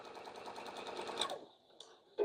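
Sewing machine stitching a seam across fabric selvage scraps for string quilt blocks, a steady close whirring run that stops after about a second and a half, followed by brief faint clicks.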